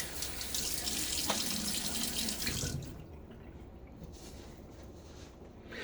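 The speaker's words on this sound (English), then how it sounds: "a little water on my face before the lather" Running water splashes and gurgles at a sink for a few seconds as water is splashed on a face before shaving lather, then stops, leaving quiet room tone.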